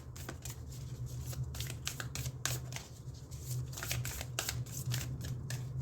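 A deck of cards is riffled and shuffled in quick, crisp bursts of flapping, close and fairly quiet, with no speech.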